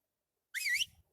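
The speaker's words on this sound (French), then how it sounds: "il y a toutes les créatures qui vont entendre mon sifflement là" A single sustained whistle command from the player character in ARK: Survival Evolved, a clear warbling tone lasting about a third of a second, followed by soft low rumbling game ambience.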